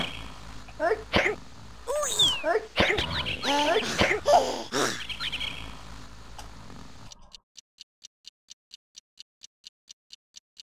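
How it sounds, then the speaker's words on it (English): Sneezing enemies in the PC game The Fortune Cookie, a busy stretch of repeated sneezes and throaty bursts that stops abruptly and gives way to a steady, evenly spaced ticking. "If only you could kill these sneezing bastards."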